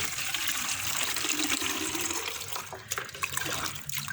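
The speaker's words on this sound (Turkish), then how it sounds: "Bakın saksı altından sular akmaya başladı." Water pours over potted leaf-propagated succulents and drains out beneath the pot, giving a close, continuous splashing trickle that thins out toward the end, with no voices.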